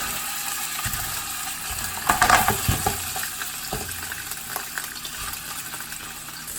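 Beef goes into oil heated on high for luo song tang and sears with a crackling sizzle, a louder burst of spattering and popping near the start and a continuous frying hiss that slowly settles, with no voices.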